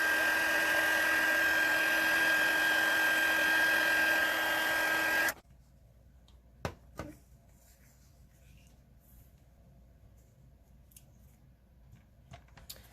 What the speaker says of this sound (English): So I'm going to heat this up with my heat tool for a minute just to get it embossed